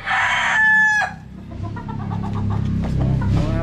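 Chickens cluck and a rooster crows once, loud and close, near a handler holding a gamefowl during a pointing session; the crow is followed by scattered clucks over low background noise.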